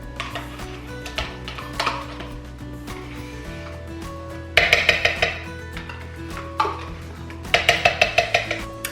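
A metal spoon clinks against a bowl while strawberry banana yogurt is scooped in, with rapid clusters of bright taps in quick bursts, close and clear with no talking.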